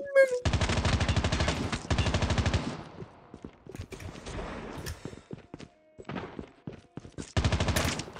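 Machine gun fire in a one-on-one shooter match between a tablet player and a PC player: loud, rapid automatic bursts in three long strings, with scattered single shots and thuds in the gaps.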